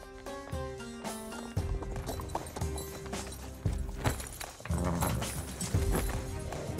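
A horse being led, hooves clip-clopping in an uneven rhythm with thuds and clatter, amid background music and commotion.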